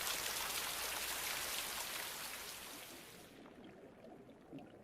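Steady rain falls in a rainforest onto waxy rosette leaves, a dense even hiss of drops that softens and thins toward the end.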